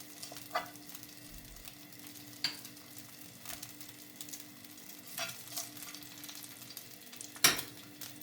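Food frying in plenty of oil in a pan, a soft steady sizzle with occasional sharp clicks and pops of a utensil, quiet and without talk.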